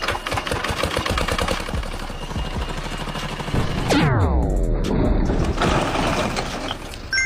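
A tractor smashing through a concrete block wall, a loud continuous grinding, rattling machine roar with crunching impacts and a falling whine midway as the blocks give way.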